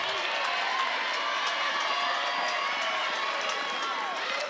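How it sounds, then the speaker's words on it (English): A softball stadium crowd at a women's college game cheers and claps steadily in encouragement, a broad sustained roar that stays even throughout. "Crowd giving her some encouragement."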